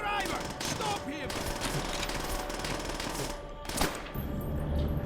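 Sustained automatic gunfire from a Call of Duty: World at War battle, dense rapid bursts running almost continuously and loud, with brief shouting voices mixed into the combat.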